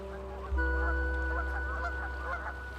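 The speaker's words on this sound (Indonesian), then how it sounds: "ancaman lain juga mengintai angsa Kanada sepanjang rute migrasi." Canada geese honking, several loud nasal calls overlapping and repeating close by over a steady low background rumble.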